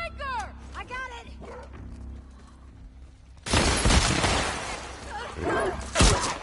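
Enemy dog barking in The Last of Us, with harsh yelping barks early on, then a loud burst of chaotic combat noise and crashes that buries the barking, while voices talk throughout.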